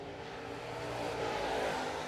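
A late model race car engine droning steadily on track at Cherokee Speedway during qualifying, a continuous loud roar that swells slightly toward the end, with no talk.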